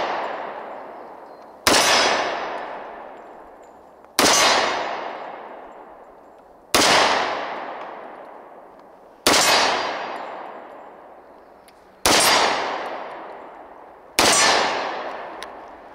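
Seven sharp pistol shots from a Sbardella Arms Full Stroke Commander 1911, fired singly at a steady pace about two seconds apart, each loud crack trailing off in a ringing outdoor echo.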